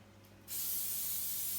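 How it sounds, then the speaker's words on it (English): Cooking spray hisses from a can into a muffin tin, a sudden close, steady spray starting after a brief quiet moment. "So I'm going to spray my muffin tin"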